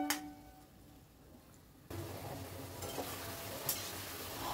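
Vegetables sizzle in a pan under constant stirring, a quiet start that jumps into a loud, steady frying hiss mixed with light scraping and occasional sharp clinks of a utensil against the pan.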